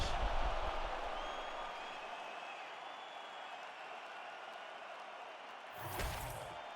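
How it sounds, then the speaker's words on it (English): A simulated arena crowd from the UFC 5 fighting video game roars and cheers steadily at a distance through a third round, with a brief louder swell near the end. "This crowd is going sick after what they saw in that previous round."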